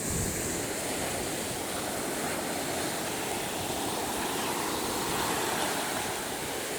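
Surf on the Gulf beach at Fort Pickens, Pensacola, Florida: a steady broad wash of breaking waves with some wind noise, continuous and even, no voices.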